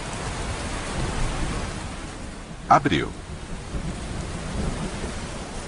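Heavy rain falls steadily in the Amazon rainforest with a rumble of thunder, a brief louder crack near the middle, while a voice speaks a single word over the downpour.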